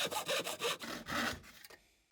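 Wood pieces for shop stools being cut with a hand saw, several quick rasping back-and-forth strokes close up, then stopping briefly near the end, no talk.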